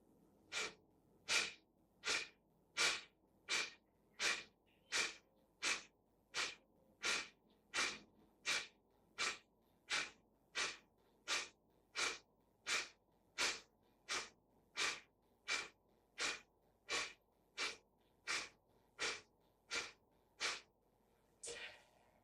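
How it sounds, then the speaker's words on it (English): Forceful nasal exhalations in breathwork, the navel drawn in on each one: about twenty-five sharp, evenly spaced huffs through the nose in a steady rapid rhythm, close and clear against a quiet room. "inhale and exhale through the nose. So exhale and draw the navel in with a force"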